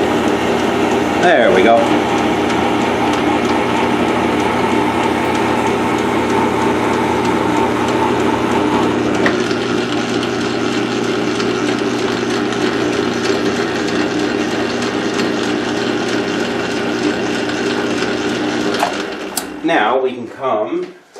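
A South Bend 9-inch lathe cuts threads on a tailstock quill extension, a steady mechanical hum and whir that runs throughout, with a brief remark near the end as the machine winds down.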